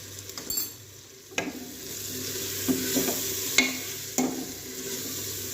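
Aloo matar curry enriched with a spoonful of cream being stirred in a pan, with soft scraping and clinking of the spoon at irregular intervals over a low, steady background sizzle.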